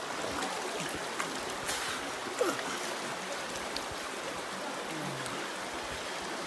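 Cold spring water flowing near Mount Kenya, a faint continuous stream trickle with a few soft splashes, quiet and steady.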